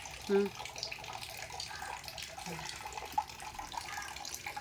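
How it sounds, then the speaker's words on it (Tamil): A tap runs softly while cutla fish is washed in a sink, a low continuous trickle with a couple of brief clinks and splashes near the start, and faint talk in the background. "மீன் நல்லா வாஷ் பண்ணி எடுத்தாச்சு"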